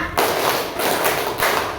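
A class of children claps together in a classroom clapping game: four sharp, close group claps spaced unevenly, with little talk around them.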